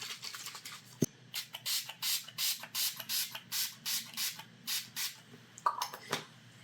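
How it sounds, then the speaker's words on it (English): Quick bursts of a makeup setting spray bottle hiss in a steady rhythm, about a dozen short pumps close to the microphone with no talking. "I'm going to do a little bit of setting spray."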